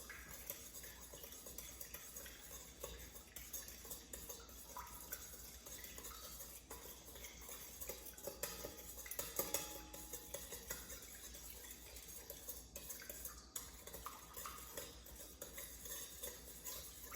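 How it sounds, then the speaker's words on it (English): A spoon stirs a beef marinade for Japanese udon in a bowl, with steady clinking and scraping against the dish over a faint background hum. "grab a spoon and give it a good stir."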